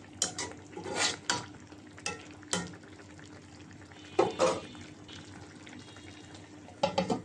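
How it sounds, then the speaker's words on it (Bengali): Stirring a simmering tomato and eggplant curry with hilsa fish head and tail in a pot, with a few scraping utensil strokes and soft bubbling, plus a brief clatter near the end. "বলক এসেছে, একটু নাড়াচাড়া দিয়ে দেই।"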